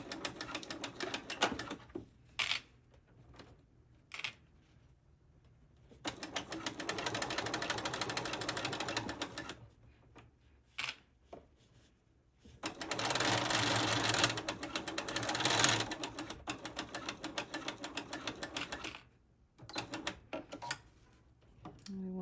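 A sewing machine stitches a binding edge on quilted sneakers in several bursts of steady, rapid needle chatter, with short quiet pauses between runs.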